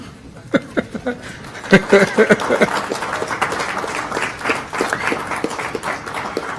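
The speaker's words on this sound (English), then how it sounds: "It's okay to clap, audience." Audience applause at a school board of education meeting in Omaha, Nebraska, right after a motion carries: scattered claps building into steady clapping across the room, with voices talking under it.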